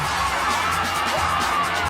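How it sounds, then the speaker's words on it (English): In-game crowd noise in a video game, a dense continuous wash of distant voices cheering or screaming, steady and loud throughout the brief stretch with no distinct individual calls. "I think that's supposed to be cheering?"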